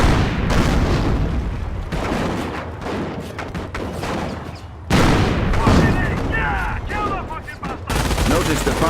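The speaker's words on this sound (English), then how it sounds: "Notice the Panzer's slow rate of fire." A Panzer IV tank fires its cannon in a World War II Normandy beach battle game, heavy booming blasts spaced slowly apart amid surrounding gunfire and explosions, with voices speaking over the combat.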